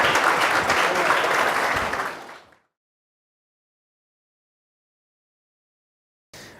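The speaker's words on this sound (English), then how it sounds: "You guys give her a round of applause." Audience applause at a workplace lunch-and-learn gathering, a dense burst of clapping lasting about two and a half seconds before cutting to silence, with a brief faint sound at the very end.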